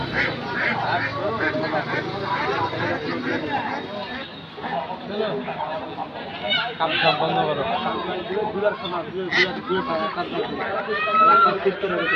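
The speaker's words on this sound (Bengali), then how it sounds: "একজন বিক্রেতা রাজহাঁস নিয়ে বসে আছে" Geese honking among a busy market crowd, scattered goose calls mixing with constant chatter and nearby voices talking throughout.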